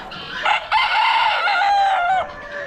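A Polish rooster gives a single loud, close crow that rises and holds before trailing off, heard on its own without talk.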